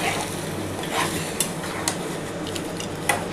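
Spice paste for chicken dak bungalow fries and is stirred in a pan, giving a steady close sizzle with a few light clinks of the spoon against the metal.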